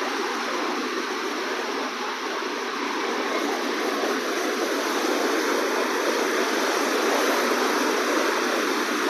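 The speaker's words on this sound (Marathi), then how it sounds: "खूप खवळलेला समुद्र आहे" Rough sea at Bandra Bandstand, Mumbai, surging at high tide in the rain, makes a continuous, loud, close roar of crashing surf with no voices.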